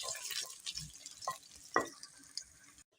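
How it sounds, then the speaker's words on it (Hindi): Onions frying in about three spoons of hot oil in a pan, with a steady broadband sizzle and a few sharp stirring scrapes, close and moderately loud. "सबसे पहले हम प्याज भून लेंगे।"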